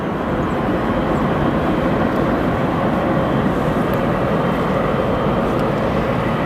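An airplane landing at O'Hare International Airport gives a loud, steady broadband rumble and roar that stays constant throughout, close and dominant with no talk.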